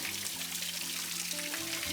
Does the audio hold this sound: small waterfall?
yes